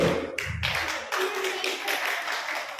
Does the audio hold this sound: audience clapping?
yes